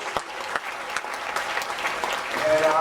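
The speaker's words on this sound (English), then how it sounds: "Let's give them another big round of applause." Audience applause after a topic discussion session panel, scattered claps at first that swell into a fuller, steadier round of clapping, with a voice briefly heard toward the end.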